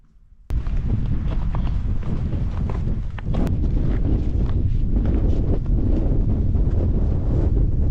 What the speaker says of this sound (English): The wind just hits you, it is very exposed